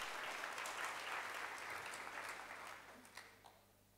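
Audience applause at a conference opening ceremony, a broad wash of many hands clapping that gradually thins and fades toward the end, leaving a few scattered claps.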